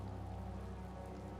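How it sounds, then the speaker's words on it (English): Steady rain falls in a Japanese role-playing video game, a continuous even patter over a low electrical hum, with no talking. "雨降ってるし"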